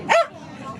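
A dog gives one short, loud bark close by, followed by faint background murmur.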